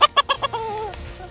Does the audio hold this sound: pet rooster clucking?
yes